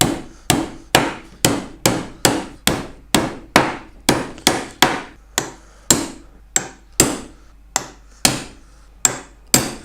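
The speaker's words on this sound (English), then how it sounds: "So I'll just nail these final 4 in." A wooden National beehive brood body being assembled, with about twenty sharp, evenly spaced hammer blows driving nails in, loud and close with quick decays and no talking.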